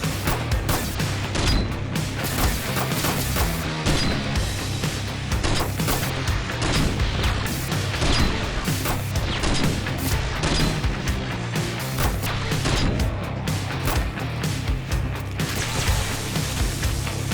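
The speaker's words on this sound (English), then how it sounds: "As you can see, the demolishers are no match for the sniper." Sustained video game combat in 7 Days to Die: sniper rifle armor-piercing rounds firing into a horde of demolisher zombies, with dense repeated gunshots, booms and crashing impacts continuing for the whole stretch.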